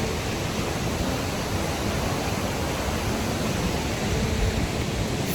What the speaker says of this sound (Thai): คือแบบน้ำตก ธรรมชาติ แล้วก็แบบ ฟังเสียงดิ